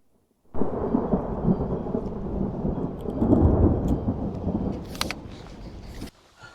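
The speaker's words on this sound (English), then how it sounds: "So now it's raining" A deep roll of thunder rumbles for several seconds over steady rain, fading out with a few sharp crackles near the end.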